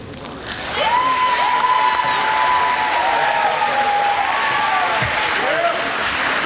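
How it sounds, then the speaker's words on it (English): Gym crowd clapping during a high school girls' volleyball senior night, sustained applause swelling after a quieter start and holding steady, with a few voices calling out over it. "let the applause die down for you"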